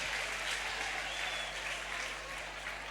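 A church congregation applauds loudly for Jesus, a steady, sustained wash of clapping from a large crowd that holds at an even level throughout.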